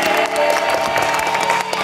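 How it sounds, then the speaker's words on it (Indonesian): Dense, steady applause fills an Indonesian Family 100 game show studio, a continuous wash of clapping from the audience with faint background music running underneath. "yuk tepuk tangan juga yuk untuk Femme Fatale"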